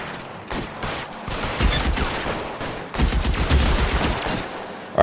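Rapid bursts of gunfire in the LA Noire video game, a sustained fusillade of overlapping shots with loud clusters around the middle and latter half, no talk.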